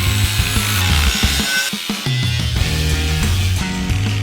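An angle grinder cuts through a steel stabilizer-jack bracket for an off-road Bantam trailer build, giving a loud continuous harsh grinding roar with a brief dip partway before the cut resumes.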